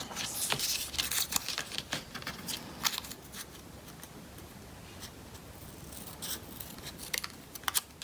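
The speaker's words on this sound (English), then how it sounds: "So I'm just going to cut out two legs." Scissors snip through paper to cut out two small legs for a Fortnite llama corner bookmark, giving a run of quick, close, crisp cuts with short pauses between them and no talking.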